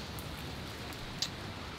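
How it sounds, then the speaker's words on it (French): Steady rain falls outside beside a swimming pool at a Thai apartment, a continuous soft hiss of drops with one brief sharper patter, even and moderately quiet throughout. "il ne faut pas y aller parce qu'il pleut là, comme vous le voyez, malheureusement"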